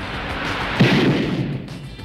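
Gunfire during a film shootout, a dense roar of shots with one sharper, louder report partway through, heard close and then fading.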